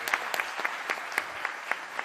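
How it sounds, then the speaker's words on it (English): A studio audience at a live televised presidential debate claps in a brief, moderate burst, with individual hand claps coming through at a quick, fairly regular pace. "Give yourselves a round of applause once again."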